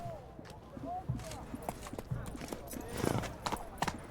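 Roach, a horse in The Witcher 3 video game, trots with rhythmic hoof clip-clops while voices speak over it.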